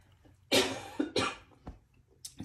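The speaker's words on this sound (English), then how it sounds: "this cough, like many people's, has been lingering" A lingering cough from a cold: one harsh, close cough followed by a second and a few smaller throat-clearing catches, alone in a quiet room.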